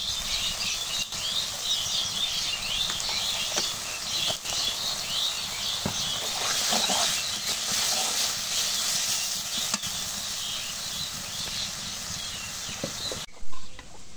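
Cumin and garlic pastes sizzle and hiss in a hot pan as they are stirred and sautéed, a steady frying crackle with occasional scraping clinks, ending in a brief thump.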